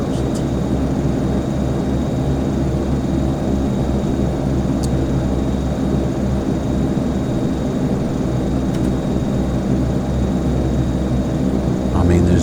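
A Saab 340 turboprop airliner in flight, approaching ENOP in poor visibility, heard from inside as a steady, loud engine and propeller drone that stays even throughout, with faint brief clicks.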